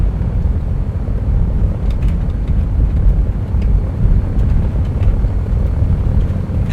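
A heavily armed Focke-Wulf 190 aircraft engine in War Thunder drones steadily as a loud, continuous low rumble from the cockpit, unbroken and alone without talk.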